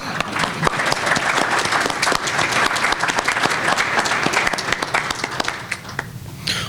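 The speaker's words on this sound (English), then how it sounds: "applause" An audience claps at a 2021 Scouting council annual meeting after officers are called forward for the oath of office. The dense, crisp clapping stays lively for several seconds, then thins and fades out.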